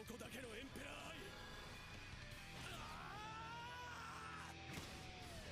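An anime character, Kuroko from Kuroko no Basket, lets out an intense, drawn-out scream amid a loud, dense mix of dramatic music and shouting during a basketball game scene.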